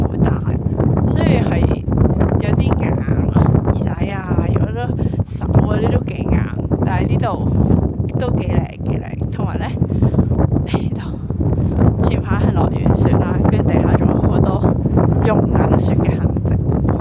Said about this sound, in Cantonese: 呢度啲風咧係即係好刮啦